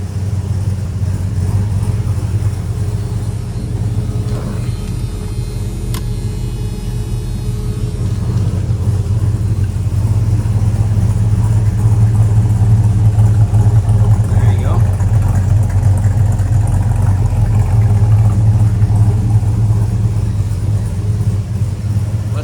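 A 1973 Dodge Charger SE with a 400 engine and 4-speed runs at idle, giving a loud, steady low rumble that never lets up and swells slightly partway through.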